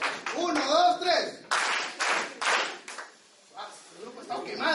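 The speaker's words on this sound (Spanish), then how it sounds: "Vamos, aplausos calurosos, todos." A group of people clapping warmly in short bursts while fanning themselves in the heat, with voices talking and calling out between and over the claps.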